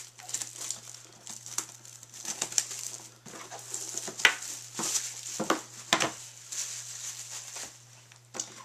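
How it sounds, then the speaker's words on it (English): Plastic shrink wrap crinkles and tears as it is stripped from the packaging of a TRENDnet TEW-692GR router, with irregular close crackles and sharper rips over a low steady hum. "You saw I just took off one shrink wrap."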